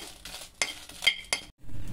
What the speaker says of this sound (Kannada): ಇದನ್ನು ಗರ್ಗರಿ ಆಗೋವರೆಗೂ ಹುರ್ಕೋಬೇಕು